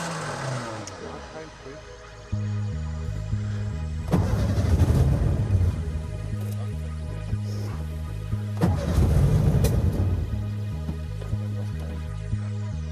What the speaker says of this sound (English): No, she doesn't want to start at all.